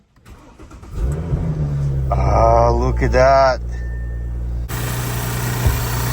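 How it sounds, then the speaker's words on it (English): An Audi S4 cranks and fires up, then settles into a steady idle with brief rises in revs, heard close by while someone speaks over the engine. "Engine works nicely."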